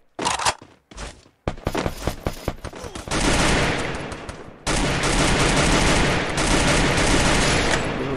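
Rapid bursts of gunfire in Free Fire crackle through the game soundscape, starting with scattered shots and swelling into sustained automatic fire that stays loud to the end.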